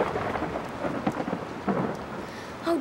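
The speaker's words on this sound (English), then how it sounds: "Oh, darn the rain." Heavy rain falls steadily while thunder rumbles low and continuous throughout, loud and close with no voices.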